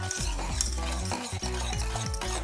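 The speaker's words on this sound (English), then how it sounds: "I'm adding some stevia now. Mixing it up." Stevia being stirred into a mixture for homemade vegan, gluten-free pop tarts, rhythmic scraping strokes repeating about every half second, close and fairly loud, with no talking.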